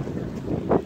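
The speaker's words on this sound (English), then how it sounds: "it's so windy out here" Steady wind buffeting the microphone outdoors, with a louder gust near the end; no voices.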